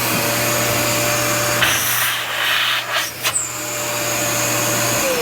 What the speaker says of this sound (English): I can go up here to my remote and turn my vacuum on